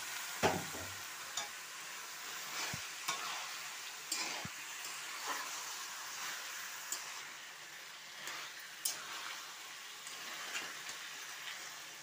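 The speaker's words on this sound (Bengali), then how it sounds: "এখন আমি এই যে মাংসটাও দিয়ে দিচ্ছি।" Mutton, a goat-meat dish cooked with jackfruit seeds, sizzles softly and steadily in a pan while being stirred, with occasional light scrapes and clinks of the utensil.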